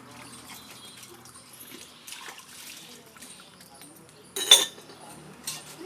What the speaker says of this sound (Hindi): बर्तन साफ कर रही।